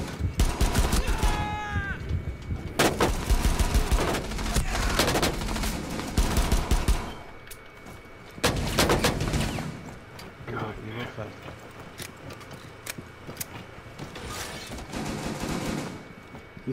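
Heavy automatic fire from Tachanka's mounted turret machine gun in a tactical shooter game, long loud sustained bursts broken by short pauses, with people talking throughout.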